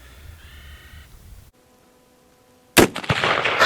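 A Winchester 1894 rifle fires one sharp, loud shot near the end at an outdoor range, its boom ringing on and decaying after a quiet stretch with faint tones.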